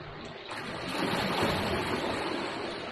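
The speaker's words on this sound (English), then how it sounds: "you can actually hear, well, as you can see down there, the water coming through and then washing into here" Seawater rushes and swells through reef rocks at Sandy Cape, Western Australia, a continuous hiss that builds and surges, close and fairly loud, with no one speaking.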